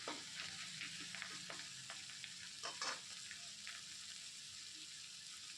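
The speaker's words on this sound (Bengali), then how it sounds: "আদা বাটাটা এইভাবে দিয়ে আমি একটু নাড়িয়ে নেব" Ginger paste sizzling in oil with bay leaves in a pressure cooker pan for veg biryani, a soft continuous fry under light, irregular stirring scrapes and taps, close but quiet.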